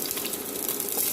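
Onions for a fish curry fry in a pan with a steady, close hiss and sizzle that continues unbroken, and no voices.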